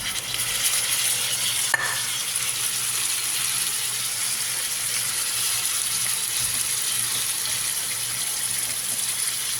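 Potatoes hitting a pan to fry alongside chicken liver at home, a steady broadband sizzle with a brief sharp clatter near the start, continuing evenly without talk.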